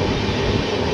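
Inside a sleeper class coach of the Poorva Express on the New Delhi–Howrah route, the moving train gives a loud, steady rumble of wheels on rails.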